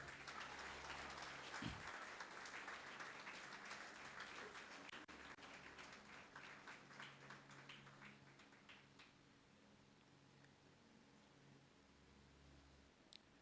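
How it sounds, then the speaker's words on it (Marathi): A church congregation applauds to welcome guests, a dense patter of many hands clapping that is strongest early and slowly thins and fades, with a low hum underneath. "सर्वांनी टाळ्या वाजवायच्या आहेत."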